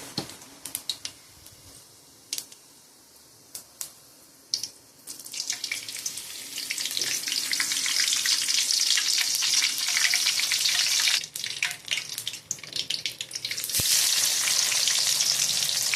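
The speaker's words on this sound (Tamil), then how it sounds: "இப்போ நான் நல்லெண்ணெய் போட்டுக்கிறேன். இப்போ நான் சோம்பு போட்டுக்கிறேன். அதிலே கருவேப்பிலை போட்டுக்கிறேன்." Fennel seeds and curry leaves drop into hot sesame oil, starting as scattered crackles and pops, then swelling into a loud, steady frying sizzle that holds for several seconds with sharp spatters.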